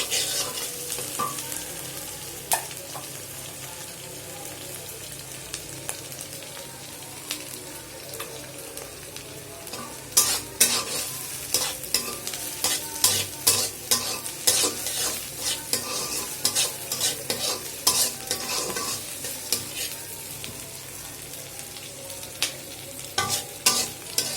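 Dried fish frying with potato and eggplant. A low sizzle in the pan turns into busy, crackling stirring, with rapid spoon scrapes and clatter dominating the second half.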